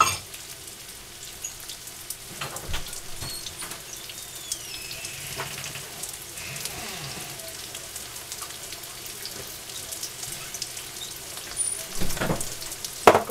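Meat patties for Salisbury steak sizzle and crackle in a skillet with a steady, fairly quiet frying hiss, broken by a few louder pops and scrapes near the end.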